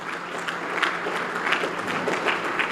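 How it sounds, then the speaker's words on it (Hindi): Schoolchildren and audience at a school applaud a student who answered a question, steady dense clapping throughout, fairly loud and close with a crowd murmur underneath. "वाह, ताली बजा दो इसके लिए एक बार।"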